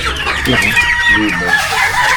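Several chickens cluck and squawk nearby in a busy, overlapping chorus, with a brief bit of background chatter.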